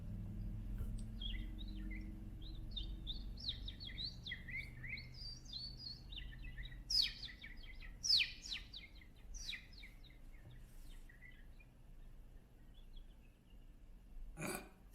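A man whistles an imitation bird call, a run of quick high chirps and trills with a few sharp accented notes, faint and close against a low room rumble, then a single sharp click near the end.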